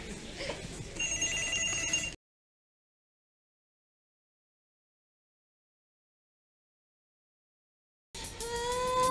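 A telephone rings in a television studio comedy show, with a bright repeating electronic tone pattern at the start. Then comes a long stretch of dead silence, and the ringing returns loudly at the end.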